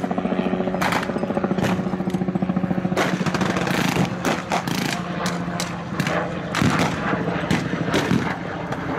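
Battlefield gunfire at an outdoor WWII reenactment display, with a 75mm anti-tank gun brought into action; dense, loud, rapid bursts of shots and heavy reports overlap continuously amid a constant mechanical drone.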